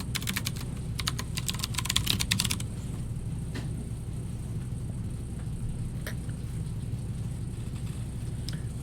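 Code is typed on a computer keyboard as a quick burst of close keystrokes, followed by a few scattered clicks over a steady low hum of background rumble.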